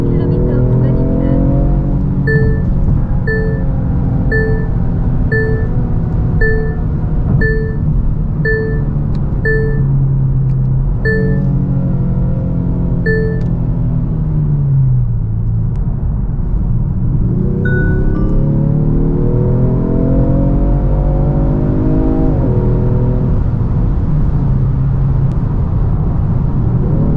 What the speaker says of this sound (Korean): 사운드 제너레이션을 들으려면 풀악셀 정도는 밟아줘야 엄청나게 들려요